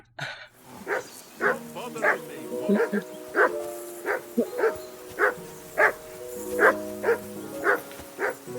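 A dog in Kingdom Come: Deliverance 2 barks repeatedly at a steady, insistent rhythm, about a dozen sharp woofs close by, with talk and game ambience underneath.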